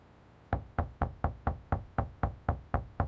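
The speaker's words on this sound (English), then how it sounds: "I knocked on the door and waited." Knocking on a door: about ten evenly spaced, solid knocks in a steady rhythm after a brief silence, close and distinct, with nothing else heard.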